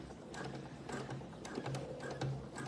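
Sewing machine stitching a row of quilt layers together, a steady mechanical whirr running in short bursts with brief pauses, close and moderately loud.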